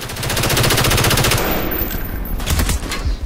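Sustained automatic gunfire in Call of Duty Black Ops multiplayer, a fast, loud rattling stream of shots that breaks briefly midway before more bursts and impacts follow.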